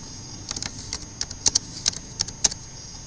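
Irregular keystrokes on a computer keyboard while Python code is typed, a dozen or so sharp clicks spread unevenly over a quiet background hum, with no talking.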